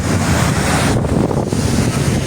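Fast-flowing river water rushes at the Ravi river headworks, a loud, continuous broadband roar with wind buffeting the microphone throughout.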